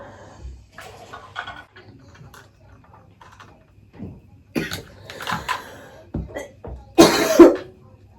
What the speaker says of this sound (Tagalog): Yung ubo ko, hindi ka talaga matanggal-tanggal.